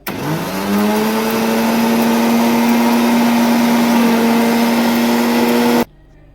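An electric beater whips half a cup of whipping cream in a bowl for homemade strawberry ice cream, a loud steady motor whine holding one pitch for several seconds before cutting off abruptly.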